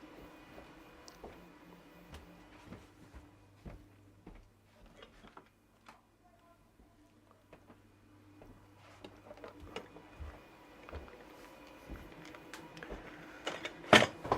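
Voron V2.4 3D printer at work: quiet ticks and clicks with a low hum, several soft stepper whirrs in between, and a louder cluster of clatter near the end, all fairly faint and without voices.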